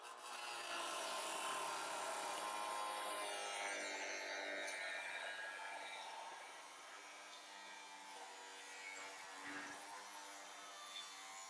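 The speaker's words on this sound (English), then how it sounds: "I think I'll be able to put the saw right in here." A saw disc cuts into the sheet-metal front body of a 1968 VW Bug, giving a steady, close grinding rasp that eases slightly partway through, with no talk over it.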